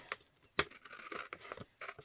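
Scissors snip and trim a paper envelope, a series of short crisp cuts and rustles at irregular intervals, close and quiet with no talking.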